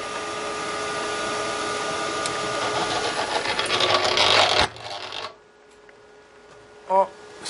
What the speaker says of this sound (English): Spindle is rotating